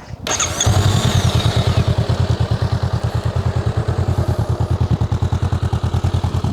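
A Honda Rebel 500 motorcycle idles close by in neutral, its exhaust putting out a steady, loping rhythm of low pulses.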